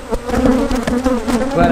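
Honey bees buzz around an open hive while frames are handled, a loud close steady hum with a wavering pitch that rises and falls as bees pass near.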